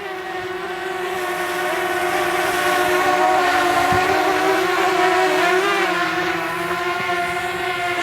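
A DJI Mavic Mini drone flies outdoors in windy conditions, its steady high-pitched propeller whine holding at a fairly loud level and wavering slightly in pitch throughout, with wind noise underneath.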